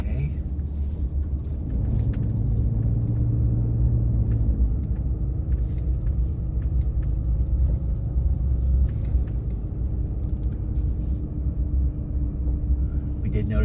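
A car rolls slowly through section A of an RV campground in St Clair, Michigan, its low engine rumble and tire noise steady and close throughout.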